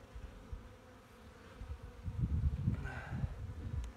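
Honey bees, including Buckfasts, buzz around an opened hive during a February late-winter inspection, a soft irregular hum that swells louder in the second half, close by and alone.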